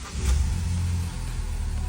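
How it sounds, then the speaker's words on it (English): A 2014 Ford Focus with a replaced dual-clutch transmission starts up, its engine catching quickly and settling into a steady, loud low rumble close by. "Let me start the car."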